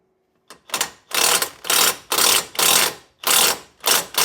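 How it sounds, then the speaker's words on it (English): An impact wrench snugs down a nut during a ball joint and wheel bearing replacement on a Mini R53. It makes about seven loud, rapid hammering bursts in quick succession, each roughly half a second long, with brief gaps between them. "I can come back and just touch it up with the impact"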